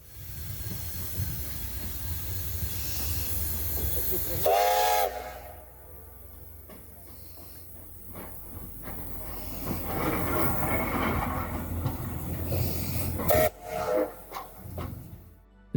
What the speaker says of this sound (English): On the way to the station, I managed to catch the departure of an earlier train.